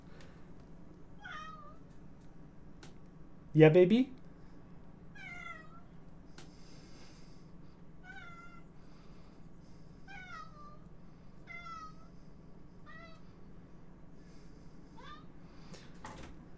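A cat grumbling and muttering indoors, a series of short, quiet chirping meows spaced every second or two, with one louder burst near the middle and a person speaking briefly.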